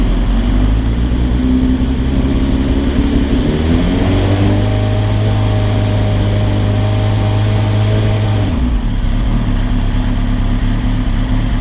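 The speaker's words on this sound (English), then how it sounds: "what I'm going to do now is I'm just going to rev the bike a little bit" A 2007 Suzuki GSX-R1000 K7 sport bike engine being revved during fuel tuning, loud and close, rising from idle into a sustained higher-rpm drone for several seconds before dropping back to idle.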